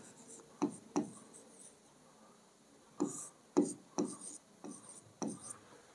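A pen scratches numbers onto paper while working a physics momentum problem, coming in short separate strokes of faint, close scribbling with quiet pauses between bursts.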